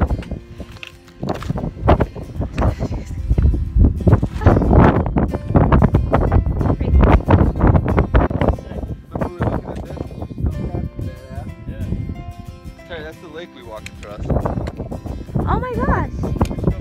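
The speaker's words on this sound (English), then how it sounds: "Really windy up here." Strong gusty wind on Franconian Ridge buffets the microphone in loud rumbling bursts, with people talking intermittently over it.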